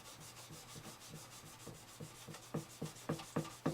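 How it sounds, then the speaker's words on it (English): Frets on a Martin HD-28 style kit guitar rubbed during fret dressing, soft repeated scraping strokes that start faint and grow into louder, evenly spaced rubs toward the end. "You see what I mean about rubbing on both sides of the fret?"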